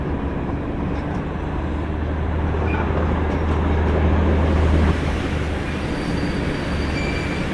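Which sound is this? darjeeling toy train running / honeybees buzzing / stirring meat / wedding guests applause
darjeeling toy train running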